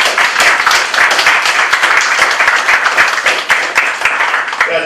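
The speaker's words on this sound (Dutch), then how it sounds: "Ja, het is inderdaad een applaus waard." An audience applauds at a Dutch accreditation celebration, dense sustained clapping filling the room steadily for several seconds with no break.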